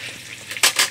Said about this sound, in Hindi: देखिए मछली को फ्राई कर रही है अभी।